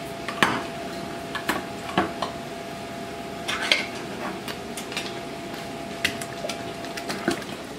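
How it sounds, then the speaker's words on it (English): A can of cream of mushroom soup is spooned into drained corn and French-style green beans, with soft wet plops and sharp clinks of a utensil against the can and dish, recurring irregularly. "And I'm going to be adding 1 can of cream of mushroom soup."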